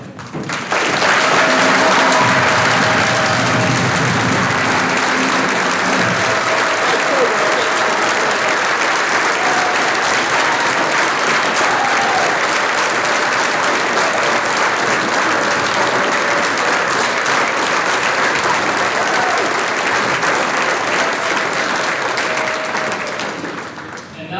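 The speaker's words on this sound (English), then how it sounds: "to be recognized with a round of applause of appreciation" A basketball game crowd claps for honored veterans in a long, steady roar of applause that swells quickly, holds loud throughout and fades slightly at the end.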